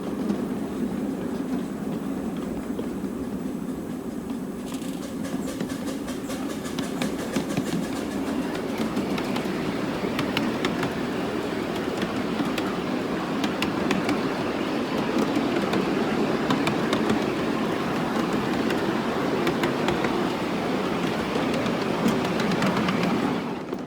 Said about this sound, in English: The train slowed down considerably as it made the figure 8 and crossed over the Elaine